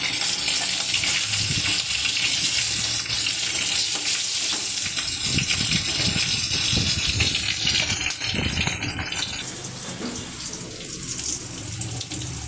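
Long-cut pointed gourd slices frying in a kadai, giving a constant loud sizzle of hot oil with scattered clinks and scrapes of stirring, running unbroken with no voices.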